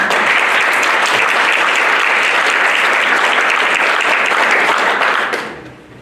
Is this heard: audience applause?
yes